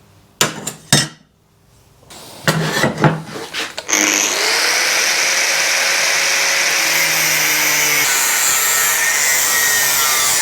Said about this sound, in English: We'll just trim them angles on, and then we're going to cut the middle out.